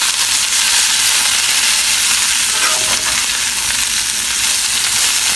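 Potatoes and onions frying in a cast iron sauteuse pan, a loud continuous sizzle with occasional scraping from stirring, close and steady throughout.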